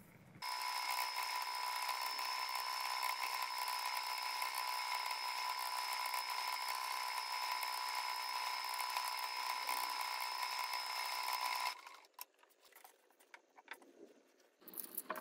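Sewing machine stitching a straight seam on the bottom of a pocket on bag lining, a steady continuous mechanical whir running for about eleven seconds, then stopping abruptly, leaving faint handling noises.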